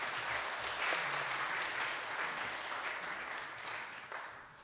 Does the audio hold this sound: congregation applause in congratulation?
yes